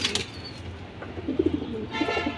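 Pigeons in a loft, a pair of fancy breeding birds, giving low soft coos around the middle and end, with a brief rustle of wings at the start against steady background noise.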